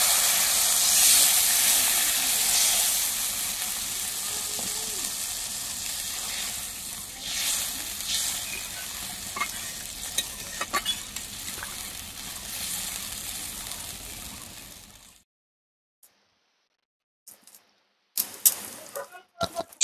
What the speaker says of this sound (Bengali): ঝোল ফুটে গেছে